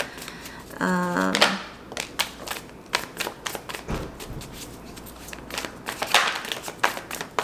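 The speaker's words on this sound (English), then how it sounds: "I just want to shuffle it one more time just to make sure" Tarot cards are shuffled and riffled close by, a burst of flapping followed by scattered taps and soft shuffling clicks, with a brief voice early on.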